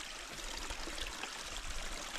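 Spring water in a wilderness backcountry seeps naturally out of the ground and runs downhill as a steady, soft trickle and gurgle, heard alone and fairly faint.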